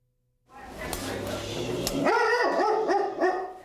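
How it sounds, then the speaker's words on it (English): A dog named Ramses barks repeatedly and loudly nearby, a quick series of yappy barks and whines that follows a brief rustle. "you gonna be a good boy and stop barking?"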